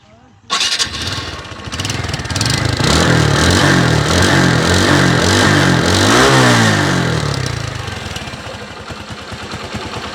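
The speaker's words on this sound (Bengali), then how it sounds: "এবার আপনাদেরকে যদি গাড়ির ইঞ্জিন সাউন্ডটা শোনানোর চেষ্টা করি" A TVS Stryker 125cc motorcycle engine starts abruptly, runs loud and close, then revs up with a rising whine before settling back toward idle.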